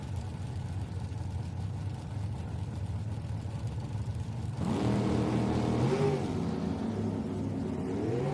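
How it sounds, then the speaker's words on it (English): Drag racing cars launch off the starting line at the Reading Nationals, a distant roar that swells suddenly midway, with rising engine tones layered over a steady crowd-and-track wash. "You could watch the cars jump off the starting line."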